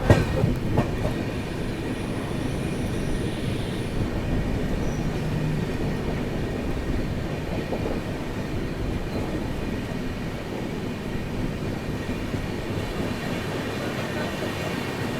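Kerala Express, the Thiruvananthapuram–New Delhi train, rumbling steadily past at close range with the continuous clatter and clickety-clack of its wagons, a loud, unbroken rolling roar throughout.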